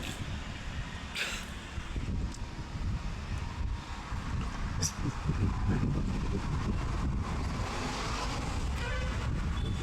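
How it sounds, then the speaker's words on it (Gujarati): Wind blows beside a river, buffeting the microphone with a low, rumbling roar that rises and falls in gusts and occasional sharper gusts. "એવો મસ્ત મજાનો પવન આવે"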